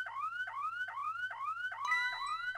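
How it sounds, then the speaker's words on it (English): A looping electronic alarm from the video game Ghost Trick repeats a rising, siren-like whoop about every half second, with a second steady electronic tone joining partway through and no talking. "Alarm! Alarm!"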